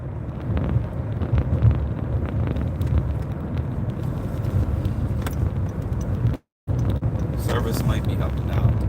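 A moving car heard from inside the cabin: a steady low road and engine rumble with wind noise that holds for the whole stretch, broken once by a brief dropout.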